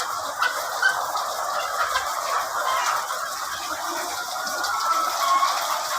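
Poultry inside a village chicken coop in rural Punjab make a continuous chorus of clucking and gobbling calls, dense and fairly close, with light scratching underneath and no talking.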